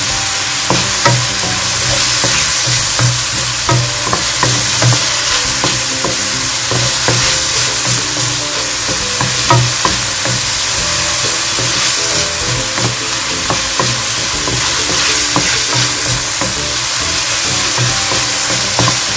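Bell pepper stuffing with corn sizzles and fries in a pan while being stirred, a constant bright hiss with repeated scraping strokes of the spoon throughout, close and steady, no voices.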